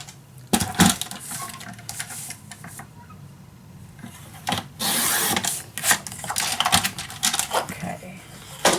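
Paper is cut with scissors up close, a series of sharp snips and rustling crinkles, with one longer papery swish in the middle and a quiet room behind.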